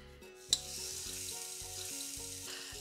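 Steady hissing sizzle of finely cut salmon frying on a hot salt block, close and continuous, with a sharp clack near the start and faint tonal hum underneath.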